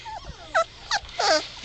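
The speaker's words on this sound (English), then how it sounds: "this is the three male puppies" Black and tan male puppies, three to four weeks old, give several short high whimpers and yips, close and fairly soft, with brief pauses between cries.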